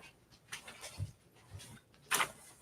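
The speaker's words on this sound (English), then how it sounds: "Well, the dogs are coming back in." Dogs come back indoors, with faint scattered thumps, paw sounds and soft panting, then a brief louder clatter as a door moves near the end.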